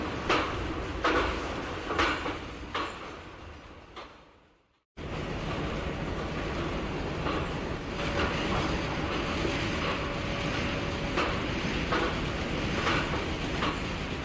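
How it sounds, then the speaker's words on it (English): A WDG or WDP4 diesel locomotive with its train passes the other way near Kandwa station, heard from inside a general coach as a sustained rumble with rhythmic wheel clatter after a brief sudden drop in sound. "another train which is slowly coming towards Kandwa station"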